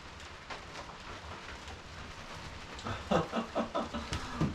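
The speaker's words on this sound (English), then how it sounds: "It's raining harder now." Heavy rain pours steadily outdoors beside a chicken coop, a dense, even hiss that swells slightly louder with a few rhythmic surges near the end.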